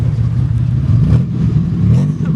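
A Pontiac Grand Am with a loud aftermarket exhaust revving near the microphone, a deep throaty drone rising and falling in short blips, continuous and loud.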